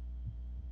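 A heartbeat in the video game ArmA III, heard as a low, dull throbbing pulse under a steady hum, close and brief.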